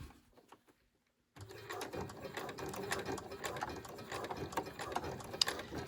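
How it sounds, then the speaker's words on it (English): A sewing machine runs steadily after a short silence, its rapid mechanical stitching clattering close up while basting the seams of a pair of jeans. "I'm going to sew up"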